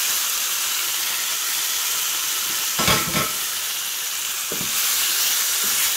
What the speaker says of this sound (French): passer à la friture de mes crevettes